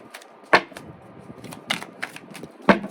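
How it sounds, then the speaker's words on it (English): Tarot cards being shuffled by hand, heard as a quick run of crisp, dry clicks and flicks with a few sharper snaps standing out, close and fairly quiet, with no talking. "Let me just shuffle 1 second"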